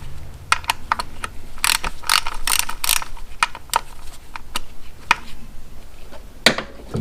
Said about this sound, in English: Gotta use a deep 10mm socket with a 3/8 drive.